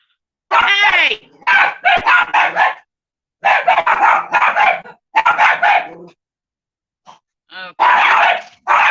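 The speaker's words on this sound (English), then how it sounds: "see if I can get the dog to stop barking. Oh, they're still barking." Several dogs bark indoors in repeated bursts, close and loud, with short pauses between volleys; a person speaks briefly among the barks.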